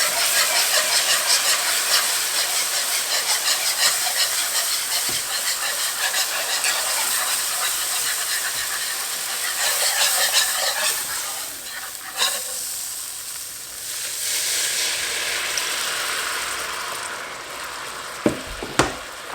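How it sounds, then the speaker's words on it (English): Beef stock poured slowly into a hot flour roux hisses and sizzles loudly while being stirred, the steamy bubbling easing off midway before rising again, with a few spoon knocks near the end. "I'm going to be slowly adding in the beef stock."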